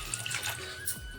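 Water runs from a tap into a cooking pot being filled for boiling pasta, a steady soft splashing with small drips and no talk.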